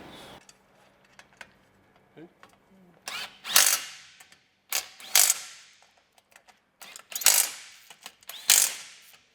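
A large spanner works a tapered fitting on an ARB air compressor, giving repeated short bursts of metallic ratcheting and grinding, close and fairly loud, separated by quieter pauses with faint background sounds.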